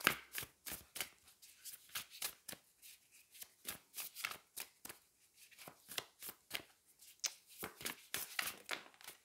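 Wild Unknown tarot deck being shuffled close up, a long run of crisp riffling snaps and card slaps in an uneven, quick rhythm with no talking.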